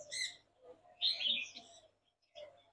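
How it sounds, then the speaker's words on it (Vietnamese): Budgerigars chirping at a bird farm: a few quiet, bright chirps in short bursts with gaps between, fairly close. "Đây, vẹt yến phụng đây tương đối nhiều."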